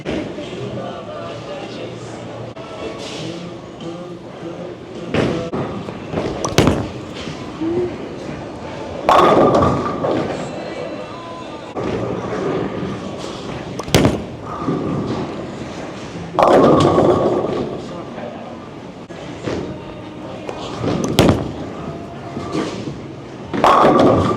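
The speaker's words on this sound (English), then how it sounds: "So I'm gonna throw some shots with all of those balls" Storm bowling balls rolled down a bowling lane, a series of heavy thuds and rolling rumbles followed by bursts of pin crash, with a voice speaking briefly between shots in an alley setting.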